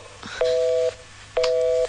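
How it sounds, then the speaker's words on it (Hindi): Phone tones after a call is cut off: two steady, loud beeps of equal length, each about half a second, separated by a short gap, over faint background hiss with no talking. "फोन कट गया।"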